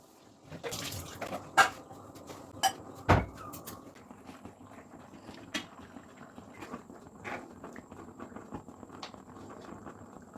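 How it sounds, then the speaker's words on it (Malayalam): Scattered clanks and knocks of pots and dishes, a few sharp loud hits early on, then softer clatter over a low background rustle. "പിന്നെ വേഗം തന്നെ നമുക്ക് ആ പാത്രങ്ങളെല്ലാം ഒന്ന് കഴുകി വെക്കാവേ"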